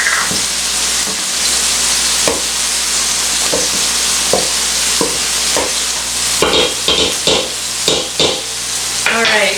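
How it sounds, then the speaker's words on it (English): Ground beef being stirred and broken apart as it browns in a pan for a pizza casserole, with steady close sizzling and repeated scraping strokes of the utensil; a voice speaks briefly. "I'm going to break up my meat here a little bit. Once you brown your ground beef or your sausage,"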